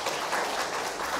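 Members at a founding general assembly give a short burst of approving applause, a dense, even patter of many hands at moderate distance.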